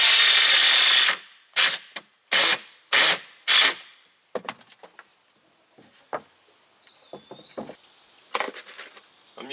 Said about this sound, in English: Got one side all screwed in, and now I do the other side.